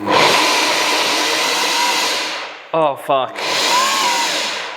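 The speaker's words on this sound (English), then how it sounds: "The fish blender was going." A loud whirring blender runs steadily, cutting out briefly while someone exclaims, then starts up again.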